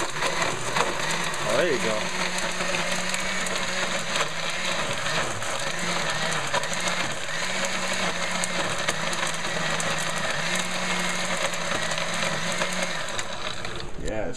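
A blender grinds a Yu-Gi-Oh card into a smoothie, giving a steady whirring, grinding drone that holds evenly for the whole stretch while a voice briefly speaks over it.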